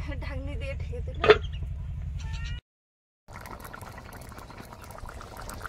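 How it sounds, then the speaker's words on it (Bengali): Duck meat curry simmering in a covered pot in a village kitchen: a steady bubbling hiss that breaks off briefly, then resumes as a denser, noisier boil. "তরকারি ফুটছে, প্রায় হয়ে গেছে।"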